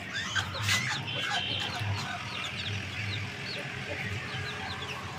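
Chickens and a rooster cluck and call continuously in a busy farmyard or pet coop, a dense, fairly distant chatter with no one speaking over it.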